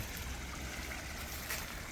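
A lit backyard pond waterfall in a desert food forest trickles steadily, a soft, continuous splashing and babbling of water, fairly faint and close, with no voices over it.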